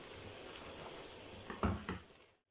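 Bell peppers sizzling in a pan as they are tossed in, a steady soft frying hiss broken by a few louder clattering bursts near the end before it cuts out.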